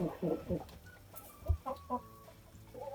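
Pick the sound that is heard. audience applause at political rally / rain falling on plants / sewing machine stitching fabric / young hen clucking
young hen clucking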